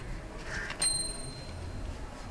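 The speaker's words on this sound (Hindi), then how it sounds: "हम घंटी डोला दै छी।" A small hand bell rung during a puja gives one bright, clear ding that rings out briefly and fades over a quiet indoor background.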